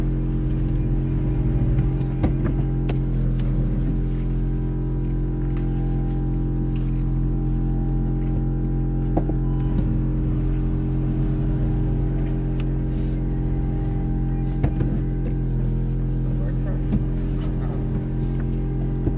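A Volkswagen Up car engine runs steadily and loudly close by, a low continuous drone with occasional small mechanical ticks and no voices.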